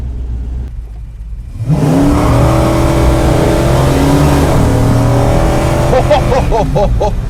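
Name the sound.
1965 Dodge Coronet 500 accelerating hard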